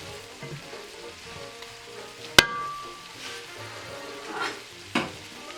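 Pre-cooked shrimp sizzle in a pan with a soft, continuous crackle, broken by a sharp metallic clank of a utensil against the pan and a couple of lighter taps later on.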